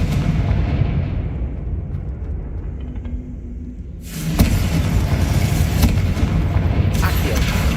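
A Confringo fire spell explodes in the Hogwarts Legacy video game, a sudden loud blast midway that cuts through a low rumbling game backdrop and is followed by continued crackling and booming.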